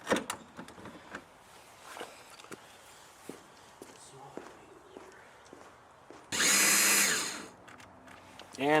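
A power drill on a Ford F150 unscrews a muddy fender bolt, giving one loud whirring burst of about a second amid quiet handling noises and faint clicks.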